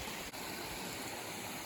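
Creek water flowing into pools along an old creek bed, a faint, even, continuous wash of rushing water with no talk.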